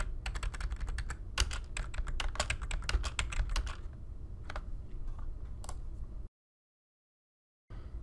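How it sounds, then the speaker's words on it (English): Computer keyboard keys (arrow keys, space bar and enter) tapped in quick clattering bursts, busy at first and then sparse, ending in a short stretch of silence and a soft return of room noise. "You're going to use the up and down, left and right arrow keys, space bar, enter to present."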